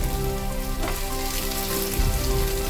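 Oil sizzles steadily as taro pieces fry in a pan, a continuous close crackling hiss with no voices.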